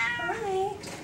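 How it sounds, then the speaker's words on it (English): A cat meowing while being bathed in water, one close drawn-out meow that rises and then falls, with a little splashing in the background. "Now she still has her ears up and her meow is happy."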